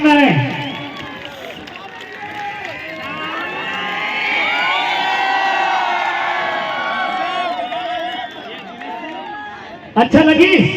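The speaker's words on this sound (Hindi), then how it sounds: "जोरदार ताली बजा के स्वागत करना है" A crowd at a stage program in Bhilai cheers in welcome, with loud whoops and high shouting voices, some sounding like children, swelling and holding before a sharp, noisy burst near the end.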